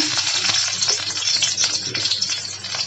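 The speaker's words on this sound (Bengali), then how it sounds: "তেলটা গরম হলে দিয়ে দিব রসুন কুচি" Chopped garlic sizzles in hot oil for a jute-leaf stir-fry, a dense, steady crackling hiss close by with faint scraping and clinks throughout, no voices.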